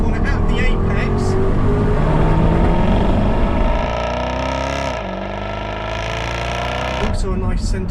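Jaguar XKRS accelerating hard out of a corner apex, a loud, close engine note rising steadily in pitch, dipping briefly, then climbing again, with someone talking over it.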